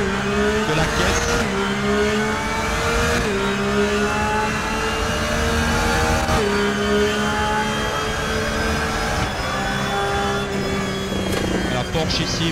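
A Porsche race car engine in a racing simulator game roars steadily at high revs, pitch climbing through the gears with brief drops at each upshift, loud and continuous with faint tire noise.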